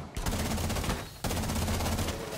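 Rapid automatic gunfire sprayed through a wall in Rainbow 6 Siege rattles out in two dense bursts, separated by a brief pause, loud and close.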